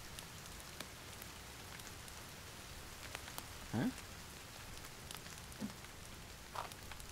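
Rain falling in the survival video game The Forest, a soft steady hiss of drops spread evenly throughout, with a couple of brief faint knocks and a short murmured word.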